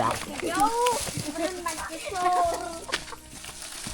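Chickens cluck and chatter in short, repeated calls nearby in a rural village in southern Laos, mixed with a person talking over steady background noise.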